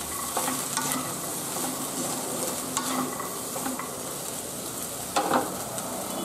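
Green chillies sizzle in hot oil while being fried for a Bengali palong shak spinach dish, with a steady crackling hiss and a few sharp scraping stirs of a utensil against the pan.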